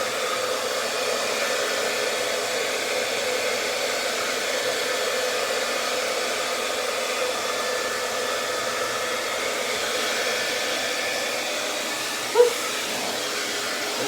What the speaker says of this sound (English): Hair dryer is a little bulky.